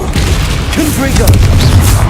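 Confringo blasting spell going off in the Hogwarts Legacy video game: a string of booming, crackling bursts with whooshing magical tones rising over a dense, steady low rumble.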